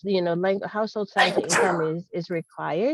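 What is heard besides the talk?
sneeze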